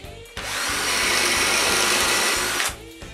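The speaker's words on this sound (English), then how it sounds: "I drill holes for the dowel on the last piece of the back of the trunk." A power drill bores a dowel hole into a wooden panel for the back of a snowmobile trunk, a loud sustained whine lasting about two seconds that starts and stops sharply.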